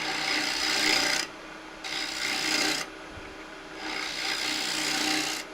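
A bowl gouge cuts an ash nut bowl spinning on a wood lathe, a loud, close, hissing scrape in three long passes broken by brief quieter pauses, with no speech.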